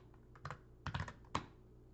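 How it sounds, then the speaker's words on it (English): Someone types a command on a computer keyboard, a few quiet clusters of close key clicks in an irregular rhythm, ending on a single firmer keystroke, with no one speaking. "Don't forget to press enter after typing the command."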